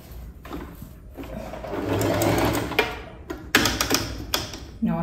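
A sewing machine joins the side of two skirt panels for a pattupavada, running in short close bursts with brief stops and clicks between them.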